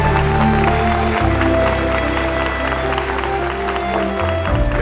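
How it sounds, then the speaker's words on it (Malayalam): An audience claps for an actor at a film event, steady sustained applause throughout, loud and close, with music playing underneath. "അദ്ദേഹത്തിന്റെ മികച്ച അഭിനയത്തിന് നമുക്ക് ഒന്നിച്ചു കൊടുക്കാം ഒരു വലിയ കൈയ്യടി."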